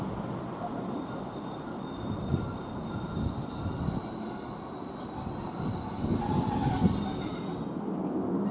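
Brakes squeal on a Northern class 156 train at Thornaby station, a steady high-pitched whine held over a low rolling rumble for the whole stretch, close and loud.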